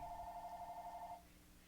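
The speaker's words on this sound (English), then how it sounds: "Sorry about the phone." A telephone rings with a faint, steady electronic trill that holds for just over a second and then cuts off, leaving quiet room tone with no one speaking.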